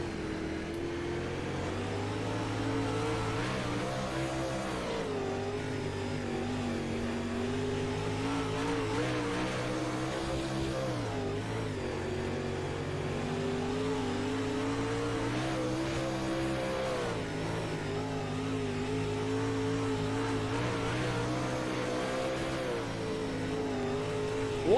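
A Pro Late Model race car, number 7G, races at Limaland Sports Park. Heard from on board, its engine drones loudly and steadily for the whole stretch, rising and falling slightly as it takes the corners among other cars.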